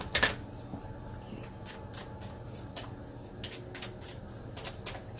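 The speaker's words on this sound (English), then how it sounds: "I'm going to shuffle this 3 times." Tarot or oracle cards are shuffled, a quick riffle at the start followed by scattered soft clicks and flicks of cards being handled, close and fairly quiet.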